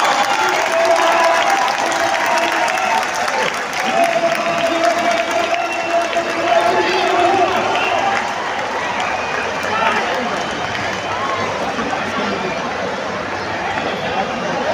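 Crowd clapping and cheering at a women's T20 cricket match between India and West Indies, a dense, continuous wash of applause and crowd noise from the stands.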